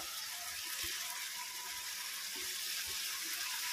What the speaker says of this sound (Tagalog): lagyan natin siya ng konti lang na tubig para pampaluto